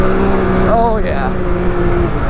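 A Can-Am X3 side-by-side runs at full throttle, a loud, close, steady engine drone with a short rising pitch sweep partway through; a voice talks briefly over it.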